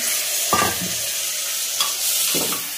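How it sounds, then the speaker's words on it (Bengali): Mutton pieces dropped into a hot pan of oil, giving a loud bright sizzle that flares with each addition, about three bursts against a constant frying hiss. "এখন আমি দিয়ে দেবো মাংসের টুকরোগুলো"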